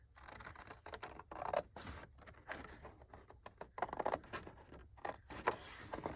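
Scissors cutting through folded 12x12 paper, a series of short crisp snips and crunches in an irregular rhythm, close and fairly quiet against a faint background.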